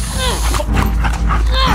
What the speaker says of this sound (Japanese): 誰の犬この